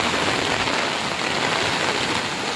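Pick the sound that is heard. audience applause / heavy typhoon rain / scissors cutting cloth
heavy typhoon rain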